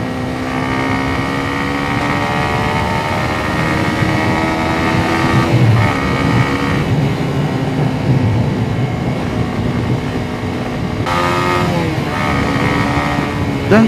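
Loud, droning Honda CBR 150 R sport motorcycle engine at steady revs while riding, its pitch shifting slightly as it changes speed, with wind rushing past.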